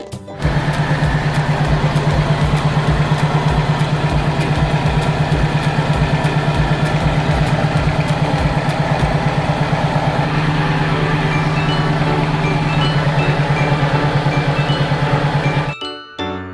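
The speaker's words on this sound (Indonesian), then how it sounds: "kedelai lalu digiling dengan mesin penggiling" A soybean grinding machine at a tofu factory runs with a steady, loud mechanical drone and a rapid motor throb, continuous for the whole stretch before cutting off at the end.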